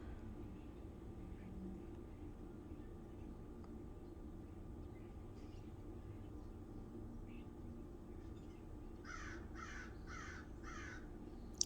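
Big black birds caw while feeding, giving a series of four distinct, moderately distant caws near the end over a steady low rumble of background noise.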